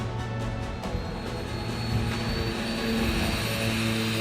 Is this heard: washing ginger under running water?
no